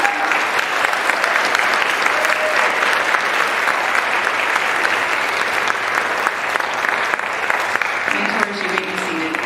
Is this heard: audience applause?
yes